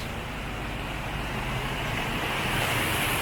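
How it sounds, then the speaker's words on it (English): Floodwater waves from a passing vehicle wash and splash through a monsoon-flooded street in Pattaya, a steady broadband rush of churning water close by that swells slightly louder toward the end, with no voices. "That guy just hit me with some big waves"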